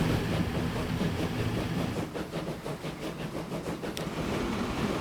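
A passenger train in the railway simulation game Transport Fever 2, set around 1880, rumbles along the track with a soft, steady rolling clatter and rhythmic wheel beats at low volume.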